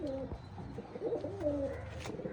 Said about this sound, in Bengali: অনেক বড় একটা কবুতর